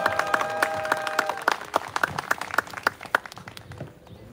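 Clapping from a labor-union crowd welcoming a speaker at a memorial rally, with sharp claps that come quickly at first, then spread out and die away. A sustained tonal sound runs under the opening.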